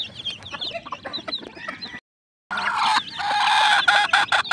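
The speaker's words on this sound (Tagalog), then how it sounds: "tayo po ngayon mga kaibigan ay magpapakain ng ating bagong pisang sisiw sa ating kulungan" Eleven newly hatched chicks in a pen chirp busily while feed is scattered on the ground, a dense high peeping that drops out briefly and then returns fuller and louder, with no voices.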